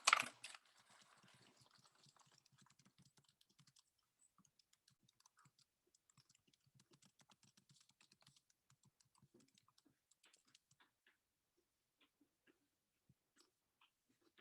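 Computer keyboard typing, one loud clack at the start, then a long run of faint, rapid key taps that thins into sparse clicks, close but quiet, no voices.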